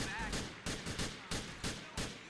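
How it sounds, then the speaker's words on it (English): Repeated explosion blasts in the racing video game Most Wanted, about four sharp booming bursts spaced roughly half a second apart, loud and close over continuous game noise. "Oh my gosh, shit's still blowing up."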